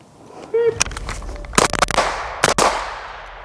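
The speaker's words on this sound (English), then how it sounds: "I did 3 shots to the chest" A Bushmaster ACR rifle fires outdoors with several sharp, loud close reports spread across a few seconds, each ringing into a short echoing tail, with a voice briefly heard.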